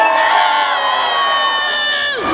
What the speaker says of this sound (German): dann schreit ihr so laut ihr könnt